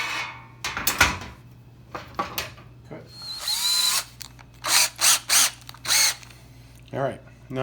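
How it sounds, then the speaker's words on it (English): A power drill whirs in several short, loud bursts, drilling holes in a metal panel, with clatter and handling noises in between. "And I'm going to drill out these holes carefully."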